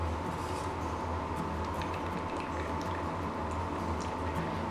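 A pot of Kerala-style ripe mango pulissery curry bubbles at a steady boil, with soft continuous bubbling and small pops close by over a low kitchen hum.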